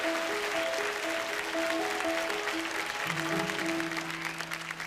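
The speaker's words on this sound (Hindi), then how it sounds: "आपके लिए जोरदार तालियां।" Studio audience applause on a Hindi TV reality show, a steady dense wash of clapping throughout with a sustained musical tone underneath.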